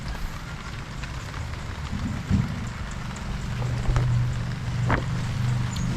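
Rain patters steadily outdoors over copra spread out to dry in the Philippines, a soft continuous wash of drops with a faint low rumble beneath, moderately close and without voices.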